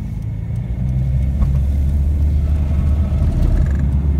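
Humber Sceptre with warm gearbox oil accelerating hard downhill, a deep, loud in-car engine rumble holding steady with slight rises in pitch throughout.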